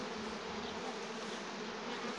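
Bees buzzing around hives while swarms are being split, a dense steady hum of many insects close by, constant throughout with no talking.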